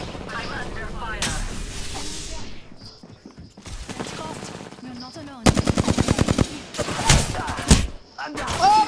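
Rapid automatic gunfire bursts in the video game Apex Legends, loud and close, interspersed with impacts and game effects while players talk over the action.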